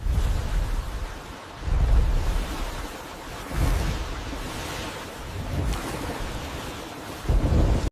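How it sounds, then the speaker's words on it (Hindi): Stormy sea waves crash and roar around a boat in a storm, heavy surges rising and falling every couple of seconds with rumbling, wind-driven noise and no voices. "ये लहरें चीख रही हैं, लगता है तूफान ने हमें घेर लिया है।"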